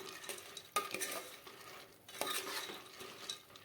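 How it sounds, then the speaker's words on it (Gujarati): Wet, sticky stirring of fried boondi into sugar syrup, with scraping clinks against a metal pan, steady and close, with a couple of sharper knocks along the way. "હવે તેને સારી રીતે સાસણી સાથે મિક્સ કરી દેવાની"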